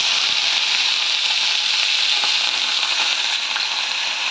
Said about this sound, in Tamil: நமக்கு எண்ணெய் காஞ்சிருச்சு, அதனால் கடுகு இதை போடுறோம்